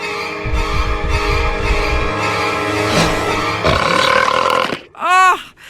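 A cartoon female character lets out a loud, drawn-out burp over a music bed, ending in a short, booming belch that stands alone.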